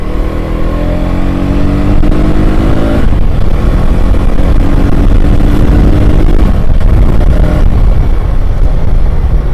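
A motorbike engine revs and accelerates loudly and close, its pitch rising in a sweep and then holding a rough, steady drone to the end.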